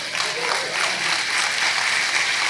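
A church congregation gives a round of applause during a New Year service: dense, loud, continuous clapping from many hands filling the room for the whole stretch.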